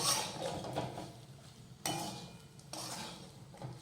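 Okra being turned over in a pan after simmering covered on low heat, giving a few soft scraping and clinking strokes of a utensil against the pan, quiet and close, with no voices.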